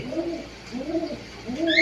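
A red-eyed pigeon coos nearby in a few rounded, repeated phrases, each a soft warbling rise and fall, with a brief higher chirp at the end.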